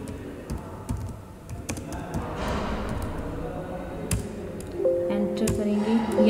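Computer keyboard keys tapped in a quick run while entering a doctor's name into Pharma Plus 9.0 pharmacy billing software, close and steady, with a voice speaking over the typing.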